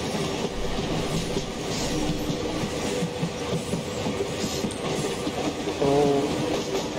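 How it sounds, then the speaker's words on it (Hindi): Long, heavily loaded freight train hauled by a single ALCO diesel locomotive at over half throttle in the Open Rails simulator, a steady rolling rumble with clattering wheels and a brief squeal near the end, no talk. "अकेला सिंगल एल्को लोकोमोटिव है, और काफ़ी लंबी और लोडेड हमारी फ्राइट ट्रेन है"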